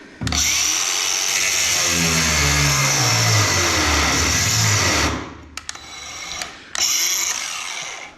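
Battery-powered angle grinder cutting bits off a Mercedes 308D recovery truck in a garage: a loud, steady high whine for about five seconds, then sputtering as it slows, followed by a brief restart.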